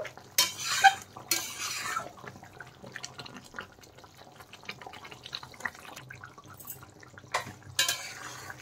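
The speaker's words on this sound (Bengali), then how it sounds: "এখন একটুখানি নেড়ে চেড়ে ভালো করে মিশিয়ে দেব" Stirring garam masala into a rohu fish curry in a pan: two bursts of scraping and clinking at the start, soft utensil scrapes through the middle and two more bursts near the end, close and without talk.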